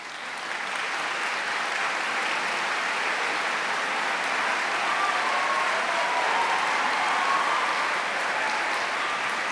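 A large concert audience gives sustained applause at a county schools chorus concert, a steady, even wash of many hands clapping that holds at the same level for nearly ten seconds.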